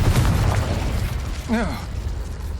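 Confringo blasting spell explosion in Hogwarts Legacy, a short burst and pop with rumbling debris right after a shouted incantation, a rising whoosh following.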